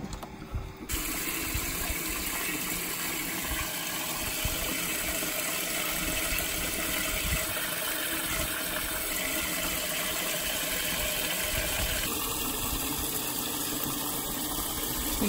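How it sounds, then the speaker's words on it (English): Water leaking steadily out past a shrunken plug, a continuous close gushing rush that holds evenly for the whole stretch with no talk. "So we have a plug that has shrunk. So the water's coming out."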